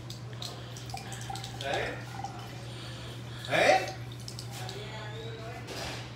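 Water trickling from a bathroom tap as hands are wetted, soft splashing and dripping under low background hum, with one brief louder splash and a short spoken word.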